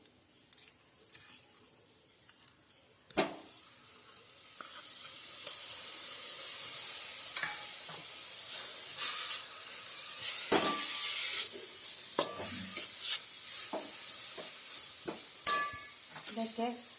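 A grated coconut filling is stirred in a pan, heard as intermittent scraping and soft hissy scratches of a spoon, with sharper clacks near the start and end, under faint background sound.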